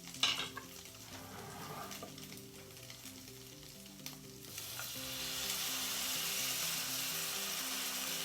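Minced peeled tomatoes for a Catalan-style stuffed squid sauce sizzle and are stirred in a pan. A hum runs underneath, and the frying hiss grows louder and steadier partway through.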